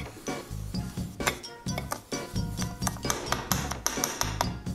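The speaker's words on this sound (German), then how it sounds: "Jetzt einmal umrühren." A spoon stirs blue sugar for cotton candy in a hard container, making quick, irregular metallic and glassy clinks and scrapes that repeat steadily and sound close, with no voices.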